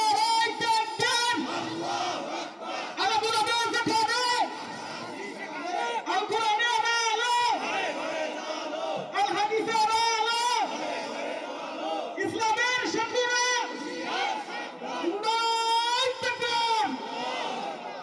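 A large crowd at a religious sermon chants slogans in loud repeated bursts of many voices, rising and falling in rhythmic waves with short pauses between calls.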